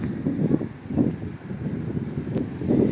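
Wind blowing along Stebnytska street in Truskavets in the evening, a steady low rumbling buffet with gusty swells that rise and fall over a few seconds, fairly loud and close to the microphone.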